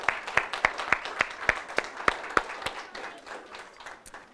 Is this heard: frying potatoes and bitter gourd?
no